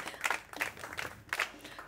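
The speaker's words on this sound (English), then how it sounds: "Clap for yourself." A few brief bursts of clapping from a small group during a cultural episode of a pageant show, spaced irregularly and moderately close, with no talk over it.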